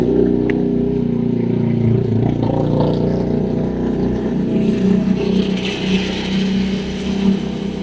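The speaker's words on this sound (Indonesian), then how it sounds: "Banyak motor." Steady, continuous drone of many motorcycles and traffic passing nearby, a dense low engine rumble with no pauses, filling the whole stretch without talk.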